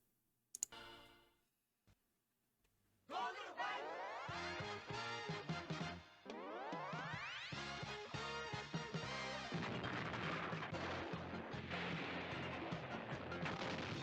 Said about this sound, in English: They're doing so much with the explosions.